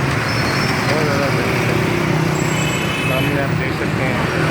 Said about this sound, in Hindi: ट्रैफिक है, बहुत ज़्यादा ट्रैफिक है